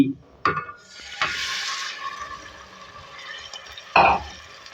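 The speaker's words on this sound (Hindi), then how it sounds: "अब इसके बाद हम बीफ का कीमा डालेंगे।" Beef mince added to frying masala in a pan: a couple of sharp spoon knocks against the pan, a soft hiss of sizzling, and brief scraping as it is stirred, close and moderately loud.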